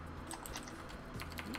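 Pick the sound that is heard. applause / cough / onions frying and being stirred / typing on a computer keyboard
typing on a computer keyboard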